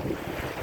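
Sea waves and wind, a brief steady rush of surf and gusting air buffeting the microphone, close and even throughout with no voices.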